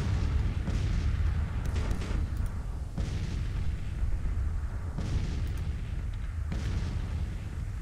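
Civil War artillery fire in the video game Grand Tactician: the Civil War sounds as a series of deep booms at intervals of about a second or two over a constant low battlefield rumble.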